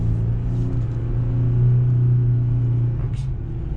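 A steady low engine rumble from a 2020 Jeep Gladiator Rubicon held at high revs in first gear for several seconds, droning loudly and evenly with a slight swell in the middle.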